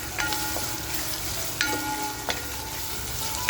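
Onions fry in a pan for Rajasthani laal maas, a steady close sizzle with occasional sharp scraping clicks of stirring.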